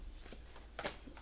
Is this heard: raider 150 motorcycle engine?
no